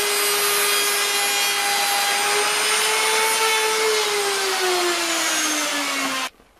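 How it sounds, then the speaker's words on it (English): A router cuts wood for chair parts along a clamped template, giving a loud, steady high-pitched whine that slowly drops in pitch under load before cutting off abruptly near the end. "So I guess I'm ready to do the routing."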